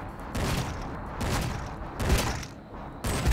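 Rapid bursts of gunfire from the video game Cortex Command, several loud clustered volleys with brief gaps between them, heard alone without talk.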